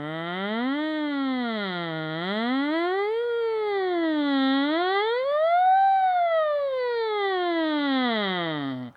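A single voice imitates a siren as a singing warm-up exercise, gliding smoothly up and down in pitch through several rising and falling sweeps, clear and steady.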